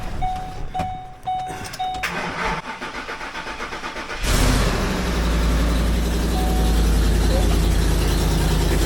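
A car engine with a repaired exhaust manifold, including a welded broken stud, cranks with a rhythmic starter whir for about four seconds. It then catches and settles into a loud, steady idle with noticeable exhaust rumble.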